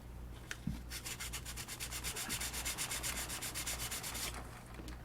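500-grit sandpaper scuffs the clear plastic canopy of a Monogram/Revell Battlestar Galactica Viper Mk1 model kit in quick, even back-and-forth strokes, a close, steady rhythmic rasping that starts and stops cleanly.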